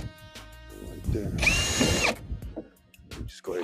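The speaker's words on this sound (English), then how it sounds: "Just go ahead and drill all of them right quick." A power drill drilling holes in hard plastic whirs in one steady burst of under a second, bracketed by clattering handling noises and a bit of rustle before and after.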